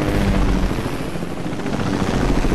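Helicopter in the video game Fortnite Battle Royale, a steady loud rotor roar with a low thudding chop that holds evenly throughout, with no talk over it.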